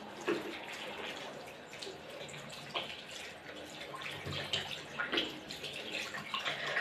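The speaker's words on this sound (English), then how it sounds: "Rinse hands and wrists thoroughly, keeping them lower than the elbows." Tap water runs steadily while hands and wrists are rinsed beneath it, a continuous splashing wash with small surges and no voices.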